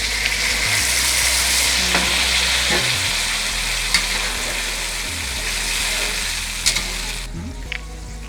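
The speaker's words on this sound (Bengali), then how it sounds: "তেলের মধ্যে মশলাটা আমি ভালো মতো কষতে থাকবো।" Spice paste of turmeric, chili and coriander powders frying in oil for potato curry, a loud dense sizzle close up, with a few spoon scrapes and taps against the pan.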